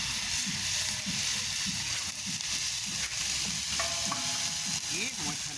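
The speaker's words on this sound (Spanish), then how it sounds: "vamos a empezar a fritar las verduritas" Bell pepper, onion and carrot fry for osso buco in a disco, a plow-disc pan, with a loud continuous sizzle and repeated stirring scrapes close by.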